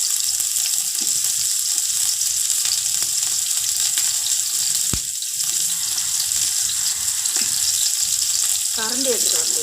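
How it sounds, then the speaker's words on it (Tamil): Onions frying in hot oil with bay leaf and cinnamon for chicken dum biryani make a continuous crackling sizzle, with a few sharp knocks and splashy, tap-like water sounds, and a brief voice near the end. "வெங்காயம் போட்டுக்கலாம்."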